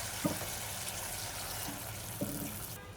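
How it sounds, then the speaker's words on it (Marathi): Water poured steadily into a pot of spicy village-style black chicken curry, a soft, continuous gushing and trickling, faint and close, with no talking. "बघा सगळं पाणी टाकलं"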